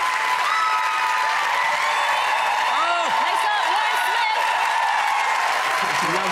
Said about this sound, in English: Big cheer, big reaction.